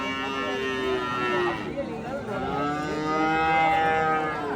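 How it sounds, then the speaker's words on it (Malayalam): A young cow calf at a busy cattle market moos in long, drawn-out calls, loud and near, with the crowd's murmur behind it. "നല്ല സുന്ദരി ഒരു പശുക്കുട്ടിയുണ്ട്"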